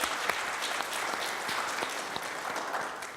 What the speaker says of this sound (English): Round of applause for Gerald, please.